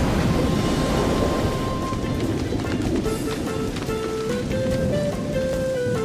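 Steady, loud rain pours down in an animated cartoon, a dense hiss running throughout with a melodic tone rising over it toward the end.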